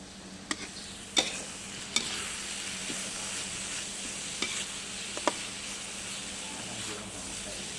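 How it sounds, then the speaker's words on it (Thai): Field rat meat stir-fried with galangal, lemongrass and kaffir lime sizzles steadily in a pan, with a spatula scraping and clinking now and then, close up and continuous. "แล้วก็ผัดก่อนแล้วก็เข้าเนื้อหนูนาลงไป"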